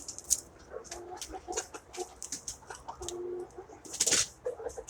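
A backyard flock of chickens, including a rooster, with scattered clucks, chirps and short calls at close range, some louder bursts among quieter background bird sounds.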